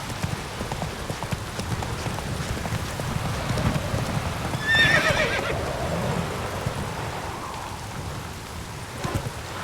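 Roach, a horse in The Witcher 3: Wild Hunt, gallops with rapid clip-clop hoofbeats through steady rain, and a whinny cuts in near the middle.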